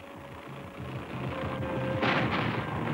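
Cartoon gunfire aimed at falling depth charges over water, a loud continuous bed of rumbling shots and booms with a rhythmic low pulsing throughout, swelling brighter and heavier in the last second, with no voices.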